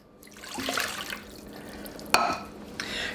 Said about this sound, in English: Now this is 1 1/4 cups of water.